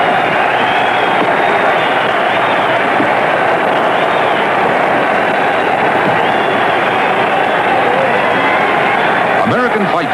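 Roaring crowd at the Dempsey vs Carpentier heavyweight boxing fight, a dense, loud, continuous wall of cheering and shouting that swells steadily with no break, old broadcast-style texture throughout.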